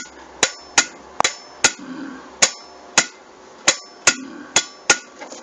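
Electrical relay on 220 V mains power snapping on and off: about ten sharp, distinct clicks at irregular intervals, close and crisp against a quiet background, with no voices.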